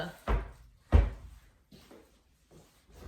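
A door swings shut indoors with a sharp close and thud, followed by a second louder bang and a few fainter knocks and rattles afterward.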